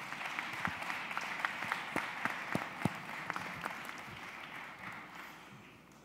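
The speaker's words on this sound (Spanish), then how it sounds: "Un aplauso para ellos, por favor." A business-summit audience in Mexico applauds panelists at a session on the new US government, with steady, moderately distant clapping and a few sharper individual claps that slowly taper off.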